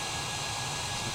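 Steady, loud broadband roar of a Boeing 787 jet engine in Microsoft Flight Simulator 2020, a constant whooshing hum with no change across the moment and no talking.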